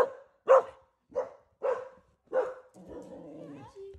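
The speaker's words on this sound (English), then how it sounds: "Quit barking." A dog barks five times in a loud, evenly spaced series close by, then lets out a lower whine or growl and a short yip.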